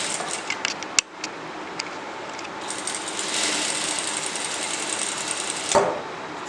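A sewing machine stitches tassel layers onto a blouse, a steady close-up mechanical whirring run with a few sharp clicks near the start and end.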